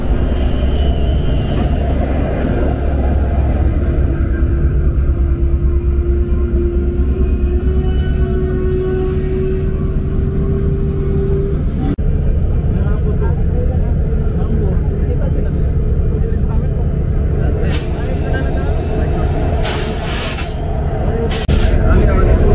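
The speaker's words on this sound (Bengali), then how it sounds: "তো আমাদের ট্রেন প্রবেশ করছে রাজবাড়ী রেলওয়ে স্টেশনে" The Madhumati Express rolls into Rajbari railway station in Bangladesh with a loud, continuous rumble of wheels and engine and a drawn-out tonal whine, heard close from on board, with a voice over it at times.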